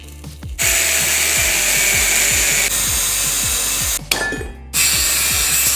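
A power tool cuts apart the metal control arm of a homemade reverse trike, making a loud, close, continuous grinding whine broken by short pauses, with rough scraping bursts in between and no talking.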